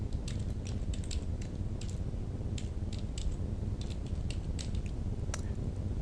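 Computer keyboard keys clack in quick irregular bursts of close, crisp taps while data is entered into an Access 2007 table, over a constant low background hum, no voices.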